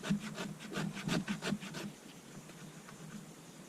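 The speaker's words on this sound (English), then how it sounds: "when you use the back of your knife to create these fine shavings" The back of a knife scrapes fatwood into fine shavings outdoors, giving a quick run of about ten rhythmic rasping strokes up close, then quiet background.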